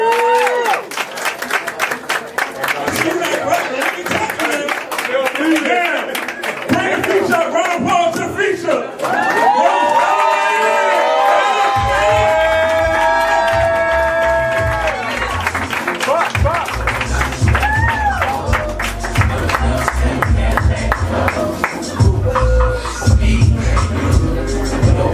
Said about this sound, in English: I want y'all to give a round of applause for the men because we got y'all back